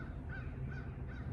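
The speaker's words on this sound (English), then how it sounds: "You can hear the crows in the background." Several crows caw in quick succession, harsh and fairly close, over a constant low rumble of wind.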